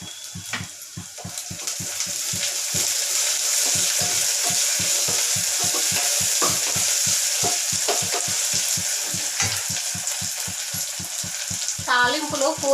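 Onions, green chillies and mint frying in a tempering for mutton gongura, with a steady sizzle under rapid, rhythmic scraping of a spatula stirring the pan close by.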